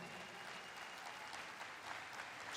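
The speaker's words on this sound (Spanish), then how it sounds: "Un aplauso a Jesucristo." Audience applause in a hall, steady dense clapping at a low, distant level with no voices over it.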